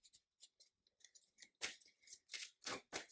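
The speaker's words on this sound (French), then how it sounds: "Je brasse mon deck." A deck of game cards is shuffled by hand up close: quick, crisp rasps and snaps in short irregular bursts that grow louder and denser toward the end.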